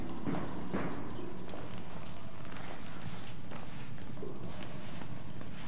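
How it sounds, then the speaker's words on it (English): Heavy running footsteps thud rapidly and loudly inside a dark building in the horror game Outlast, over a dense, noisy background. "My footsteps are very loud."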